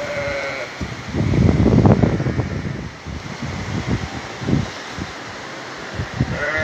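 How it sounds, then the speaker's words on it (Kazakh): Sheep bleating in a pen during a mudflow after heavy rain, several close, loud bleats in uneven bursts over a rushing, windy background. "Қойлар қорода қалды"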